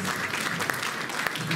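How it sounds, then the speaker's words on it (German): Steady audience applause fills a meeting about a mosque building project, a dense, even clatter of many hands throughout. "Applaus."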